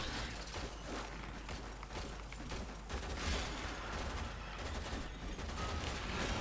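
Braton rifle fire in the game Warframe, a dense, sustained rattle of rapid automatic shots with mechanical clatter, steady and moderately loud throughout.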